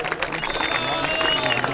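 Audience applause for Qari Sajjad Ahmad at a cadet college results ceremony, a steady wash of clapping from a crowd with a voice speaking over it.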